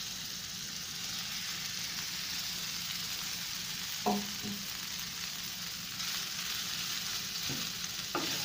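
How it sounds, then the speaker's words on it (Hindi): Rice and black pepper stir-fried in a hot pan sizzle steadily throughout, with a few short clanks of the spatula against the pan near the end. "2 मिनट हार्डली इसको हमने फ्राई किया, मिक्स किया है"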